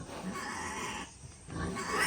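Pigs on a farm grunt and squeal in a dense, continuous chorus, loud and close, with a short dip in the middle before the noise swells again.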